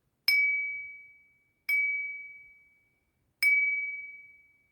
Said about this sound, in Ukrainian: Тут є така от різьба по склі, ось як воно звенить.